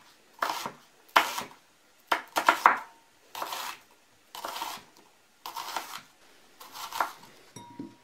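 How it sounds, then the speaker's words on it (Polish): Knife slicing an onion into half rings on a cutting board, about eight crisp, evenly spaced chops close up with short pauses between, no talk. "Cebulę pokroję w pół talarki."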